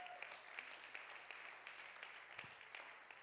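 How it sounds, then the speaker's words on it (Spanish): A church congregation applauds during a sermon, a faint, distant wash of many hands clapping steadily for a few seconds, with no one speaking over it. "Yo de usted le hubiera dado un aplauso al Señor Jesús"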